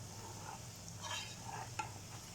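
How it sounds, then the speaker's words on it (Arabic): Onions frying hard in a pan for Egyptian mahshi, a steady soft sizzle with occasional stirring scrapes and a light clink of utensils, close and continuous with no talking. "أول حاجة هنا أنا بعمل بحمر البصل، بس بحمره قوي"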